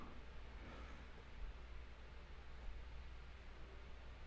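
White noise plays as a faint, continuous hiss, steady and unbroken throughout with a low hum underneath.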